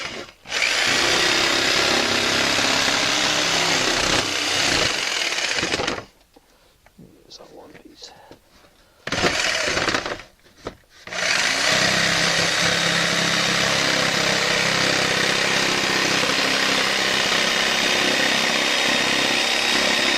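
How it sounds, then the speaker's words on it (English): Jigsaw fitted with a regular wood blade cutting quarter-inch Hardie backer cement board: loud, harsh buzzing rasp running continuously, breaking off twice briefly before resuming for a long steady cut, close by. "I'm going to cut it with a jigsaw. And it works pretty good. It's just a jigsaw with a regular wood blade on it."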